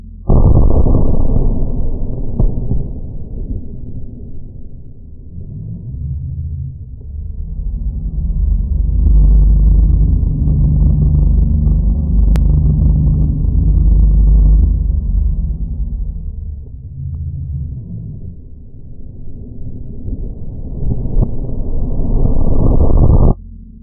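A homemade chemical bomb bursting, heard as a long, loud low rumble that swells, dips and swells again over about twenty seconds without any voices.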